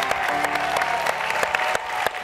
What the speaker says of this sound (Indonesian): Tepuk tangan untuk Pratama family